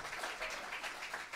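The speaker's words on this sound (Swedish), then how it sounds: "I en stor applåd till dessa magiska musiker och deras fantastiska musik." Audience at a jazz concert applauds the musicians, a brief, soft wash of steady clapping in a hall.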